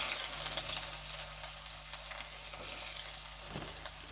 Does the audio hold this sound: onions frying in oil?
yes